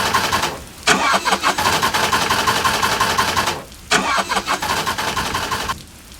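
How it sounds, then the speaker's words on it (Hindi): A car engine cranks repeatedly and fails to catch, in loud sustained bursts separated by short pauses, ending in a sudden cutoff. "अमन ने 2-3 बार कार स्टार्ट करने की कोशिश की"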